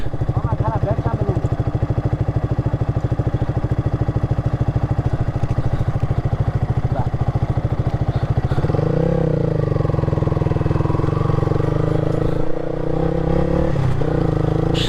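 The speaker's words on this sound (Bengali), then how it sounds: "সো এখন আবার বাইক রাইড করো" A Yamaha R15 V3 motorcycle is ridden at close range, its engine giving a loud, steady pulsing drone. Partway through, the pitch drops and the tone shifts as the rider changes gear and continues.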